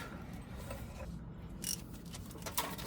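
A ratchet wrench tightens a nut on the front upper control arm of a 2005–2012 Nissan Pathfinder 4WD, giving quiet, quick mechanical clicks in short bursts close up, with no talk.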